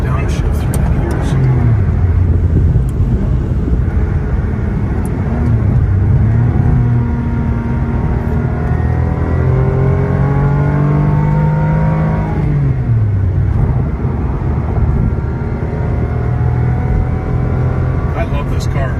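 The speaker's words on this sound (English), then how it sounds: "Downshift through the gears." A 1999 Ferrari 550 Maranello V12 engine winds down through several gears, its pitch dropping in steps with brief blips between shifts, heard from close by inside the car.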